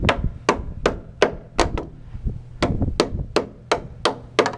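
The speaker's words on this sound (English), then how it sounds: "So I'm gonna bend this gang nail out of the way." A hammer strikes repeatedly to bend a gang nail plate on wood house framing, about a dozen sharp close blows in an uneven rhythm, loud and alone.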